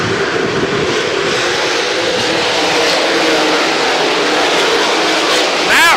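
A pack of oval-track race cars roars steadily at 34 Raceway in West Burlington, Iowa, during the 2011 Slocum 50, with engines droning loudly and continuously as they pull away under power.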